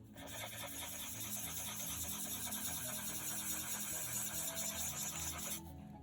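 Colored pencil edges being blended on paper, a steady close rasping rub that runs continuously for several seconds with slight texture variation, then stops.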